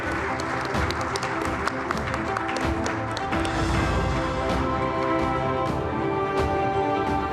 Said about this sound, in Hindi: एक बार जोरदार तालियां हो जाए राजनाथ सिंह जी के लिए।